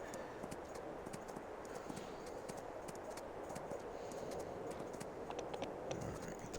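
Horse hooves clip-clop in Farming Simulator 22 at an even walking rhythm, quiet and steady, with light clicks scattered over a faint background.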